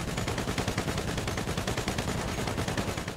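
A dense, continuous burst of rapid automatic gunfire in GTA 5 Online, aimed at a helicopter, sounds loud and close with a fast, even rhythm and no speech.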